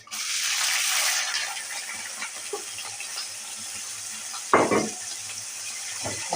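Urad dal, mustard seeds, cumin and dried red chilies hit hot oil as tempering for an amaranth-leaf fry, giving a loud burst of sizzling that settles into a softer crackle, with a brief clatter midway.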